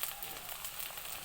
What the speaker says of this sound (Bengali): এখন আমাদের এক পাশ ভাজা হয়ে গেছে, আর এক পাশ উল্টে ভাজতেছি।